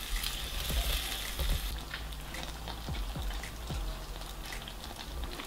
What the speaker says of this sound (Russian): Минут 7-8 тушим именно с фасолькой